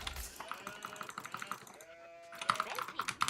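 In a real-time strategy game, a sheep's faint bleat sounds amid rapid clicking and small interface blips, quiet and mixed with game effects.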